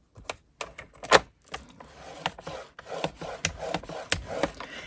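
Paper for a folding gift bag is scored with a tool at the 2-inch mark. The clip holds a series of close, quiet scraping and tapping strokes in an uneven rhythm.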